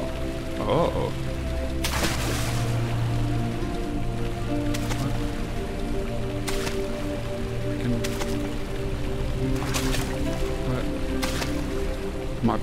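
Water splashes and drips around a fountain in the horror video game Amnesia, soft wet plops and sloshes repeating every second or so over a constant low ambient drone.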